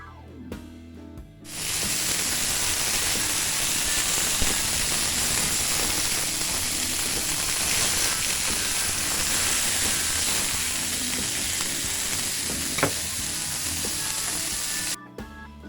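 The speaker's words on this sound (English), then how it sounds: "Got the oil heating up." A steady, bright sizzling hiss runs for most of the clip, close and constant, with a couple of faint clicks.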